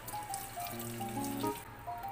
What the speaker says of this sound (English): Clean this scallop meat through the running water.